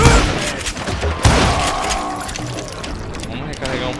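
Gunshots in the Call of Juarez Gunslinger video game, repeated loud cracks over dense game noise and music, with a player talking throughout.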